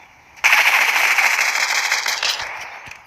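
Sustained rapid automatic gunfire from a weapon in the Fortnite video game, a dense loud burst of shots lasting over two seconds before tapering off, with no talk.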